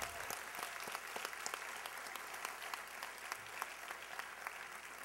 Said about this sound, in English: Let's give one last round of applause to all 5 winners and the scholarship winners.